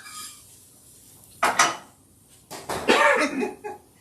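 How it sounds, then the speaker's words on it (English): A spatula cuts through tender meat in a pan, producing two short bursts of scraping and clattering, the second longer and rougher, against near silence. "We're cutting it with the spatula."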